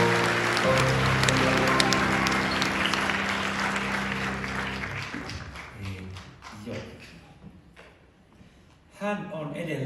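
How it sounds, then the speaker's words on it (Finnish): Audience applause for a performer at an 80th-birthday concert, heard as dense clapping under sustained musical tones and a voice, then thinning out and fading. "otetaanpa Vikille oikein raikua aplodit"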